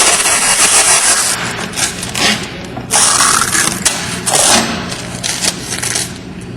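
A Loveshaw CAC50 case sealer running with its tape tension loosened, giving a steady loud mechanical whir and rattle with brief surges and dips as it feeds tape through, no talk over it.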